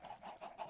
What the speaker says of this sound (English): God, we have a lot of chickens.